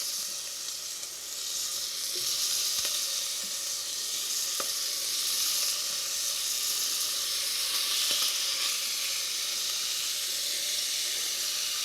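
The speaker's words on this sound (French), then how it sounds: "nous allons mettre directement nos médaillons" Venison medallions sear in a saucepan with a steady, close, bright sizzle that holds at an even level throughout, broken by a few faint clicks of stirring.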